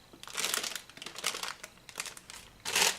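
Tinted paper of the kind placed under desserts crinkles in several close, crisp bursts, with a brief pause between bursts and a louder final crumple.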